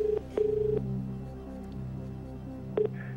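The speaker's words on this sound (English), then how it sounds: "let's get Dave on the line" A telephone line rings out with a few short electronic tones and beeps as a call is placed for a television quiz show, the tones separated by brief pauses over a faint background hum.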